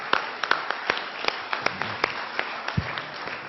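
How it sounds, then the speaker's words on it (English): Applause from a thinning audience at a day's closing remarks: sparse, individually distinct claps in an uneven rhythm, fairly close and moderately loud, lasting a few seconds. "Let's give ourselves a round of applause."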